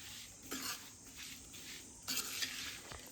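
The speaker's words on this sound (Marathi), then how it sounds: "गूळ आहे ते मिक्स करून घ्यायचं आहे" Jaggery being stirred into a sweet-and-spicy mango pickle with a spoon, giving soft wet scraping and clinks against the pot, two brief louder strokes over a faint steady hiss.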